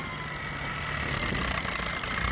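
An antique tractor engine runs at a plow day, a steady, fairly loud mechanical chugging with a broad rushing noise that holds evenly throughout, no voices.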